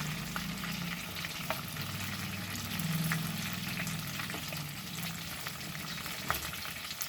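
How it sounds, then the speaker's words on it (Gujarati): Gota fritters made from moriya (sama rice) bubble in hot oil as a second batch, with a soft, even crackle, a low background hum and a few faint stirring clicks. "પણ આ બીજો ઘાણી તળું છું હવે."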